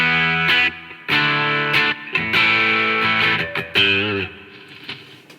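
High-gain electric guitar through a ZVex Distortron overdrive pedal plays sustained, heavily distorted chords in short bursts separated by brief gaps, loud and dry with no one speaking.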